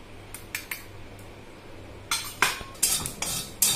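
Nigella seeds and salt dry-roasted in a pan with no oil: a quiet spell with a few light metallic taps, then louder scraping and clinking strokes of a spoon stirring against the pan.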